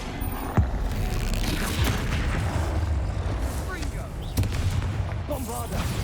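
Bombarda explosion spell cast in the Hogwarts Legacy video game during combat, sharp booming blasts, one near the start and another around the middle, over busy battle noise and spell effects.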